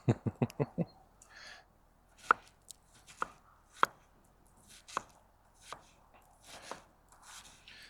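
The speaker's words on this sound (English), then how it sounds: "let's cut some veggies with that" A Brisa Nessmuk 125 knife with a custom handle chopping vegetables on a board: a quick run of five sharp chops, then slower, evenly spaced single cuts and light board knocks, close and clear with no talk.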